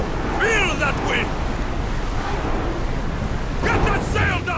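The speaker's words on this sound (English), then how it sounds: "Whoa! Feel that wind!" Wind and waves at sea while a rowed ship heads for open water in Assassin's Creed Odyssey, a loud steady rushing wash with brief voices at the start and end.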